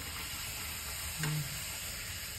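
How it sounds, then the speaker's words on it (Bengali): Luchi, the puffed Bengali bread, fries in hot oil with a soft steady sizzle and one brief low bubbling burst midway as it puffs, close and unaccompanied by speech. "সব লুচিগুলো তাহলে ভেজে নি"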